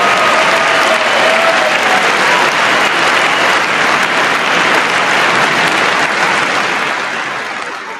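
A packed legislative chamber bursts into loud, sustained applause as the First Lady enters, a thick roar of clapping and crowd noise holding steady before tapering off near the end.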